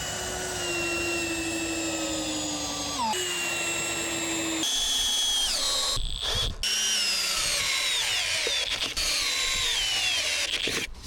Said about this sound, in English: the screw as it is driven into the plank